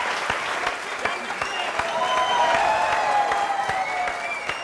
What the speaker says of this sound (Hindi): जोरदार तालियां इन लोगों के लिए।